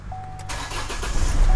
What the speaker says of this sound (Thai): เดี๋ยวผมขออนุญาตสตาร์ทนิดหนึ่งนะครับเดี๋ยวนะผมสตาร์ทหน่อย